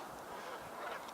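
Faint, continuous honking from a flock of geese in the distance under a high-level bridge, a steady overlapping racket with no clear pauses.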